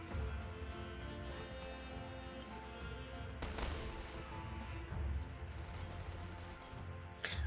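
Mortar fire in a strategy video game hitting machine gun trawlers, a dense stretch of low rumbling blasts and crashing impacts under continuous battle noise and music, one sharper burst midway.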